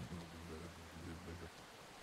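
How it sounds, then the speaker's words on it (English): Rain downpour in the farming game Farmers Life hisses as a faint, steady patter, with a low droning hum underneath for most of the two seconds before it cuts out. "Thank you, God, for the downpour."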